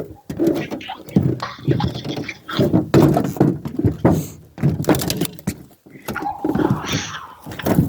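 A refrigerator door is handled up close, giving a series of thumps, clunks and rattles of varying loudness, with a voice heard briefly among them.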